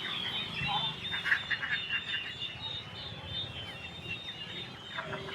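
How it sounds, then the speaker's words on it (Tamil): Honking and quacking ducks call in a busy crowd at a weekly market in Gingee, India, with scattered calls over a steady bustle of market noise and faint voices. "பார்த்தீங்கன்னா வாத்து எல்லாமே இருக்குது."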